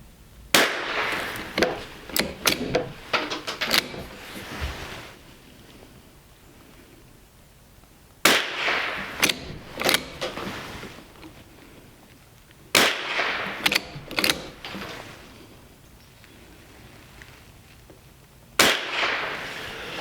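Shots from a Winchester Model 250 rifle fired at a 15-yard target ring out as sharp, loud cracks, some in quick bursts and others spaced seconds apart, with mechanical clicks and handling noise between them.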